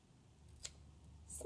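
Scissors make a single quick snip through yarn, quiet and close, in an otherwise hushed room where a knot is being tied off for a craft project.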